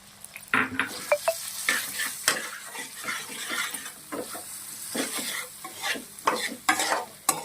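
Chicken fry with moringa leaves and curry leaves being stirred in a pan, with repeated scraping strokes of the spatula over a constant sizzle, irregular in rhythm, close and moderately loud, with no talking.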